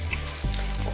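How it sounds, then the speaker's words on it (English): Chopped spring onion roasts in a pan after ginger and garlic for a sweet and sour tofu stir fry, giving a brief, steady close sizzle with no talk. "Roast the spring onion for 2 minutes."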